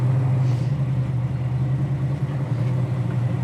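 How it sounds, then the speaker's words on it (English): A 1966 Chevelle SS engine idles steadily at 800 RPM with a strong low, even rumble and lopey cam pulse, heard close up and alone. "It's got a perfect cam sound, like I mentioned before. Just sitting here idling at 800 RPM right now."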